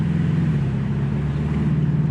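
Steady low engine drone from a turbocharged 2.5-litre Porsche 718 Boxster S fitted with a sports exhaust, a constant, fairly loud hum with no speech.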